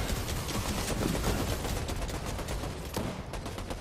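Rapid gunfire in a Fortnite battle inside a tunnel, a dense loud barrage of overlapping shots with a sharp crack near the end, no talk over it.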